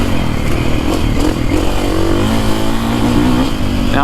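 A Husqvarna FE450 Heritage Edition four-stroke dirt bike roars steadily while being ridden, a loud, continuous engine drone with rumble and wind noise and slight pitch changes as the throttle varies.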